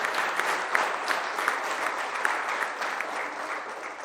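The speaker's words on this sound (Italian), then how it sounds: "Un bel applauso al mister." A studio audience on an Italian sports television show applauds the football coach of Sestri Levante, a steady wash of many hands clapping at moderate volume, with no one speaking over it.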